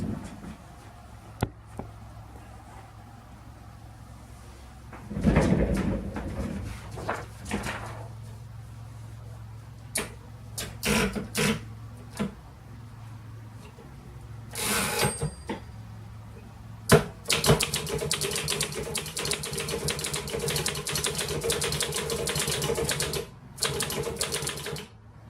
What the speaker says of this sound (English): we'll do a quick typing test